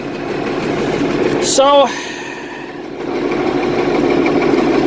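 An IH 1586 tractor idles after a cold start following two months of sitting, its engine a steady, loud, close drone throughout, with a brief rising whine and a short spoken word near the start.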